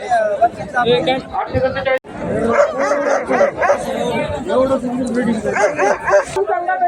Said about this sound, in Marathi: हे शिकारी कुत्रे या ठिकाणी.